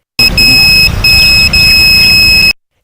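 Loud electronic proximity alarm on a student-built chip sensor device, emitting a continuous high-pitched dual-tone beep with two brief interruptions before cutting off, close and alone.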